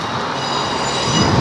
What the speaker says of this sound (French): Les trains qui arrivent et qui partent de la Gare de l'Est.